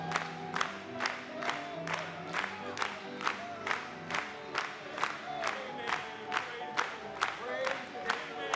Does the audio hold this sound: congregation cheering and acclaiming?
yes